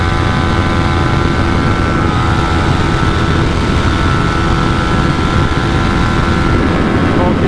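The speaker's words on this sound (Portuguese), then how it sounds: "O escape tá beirando mais do que o normal." A Kawasaki Ninja 400 exhaust at speed, with a loud steady engine drone blended with heavy wind roar and no break for the whole stretch.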